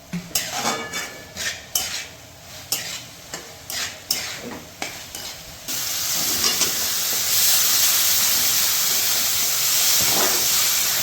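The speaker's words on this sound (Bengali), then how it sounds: "খুব ভালোভাবে মশলাগুলোকে কষাতে হবে" Rhythmic metallic scraping of a spatula against a kadai, then a steady loud sizzle and hiss as spices fry for a Bengali tangra fish curry with tomato, close by.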